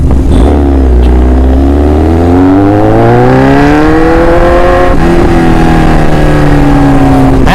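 A Kawasaki Z900 motorcycle engine under way, loud and close, its tone rising steadily as it pulls through the revs, dipping briefly, then climbing again with constant wind rumble and no talking.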